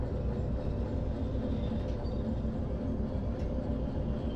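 A freight train in the game Derail Valley rolls downhill with a steady, heavy rumble and dense rolling noise, broken only by faint high squeals from the wheels or brakes.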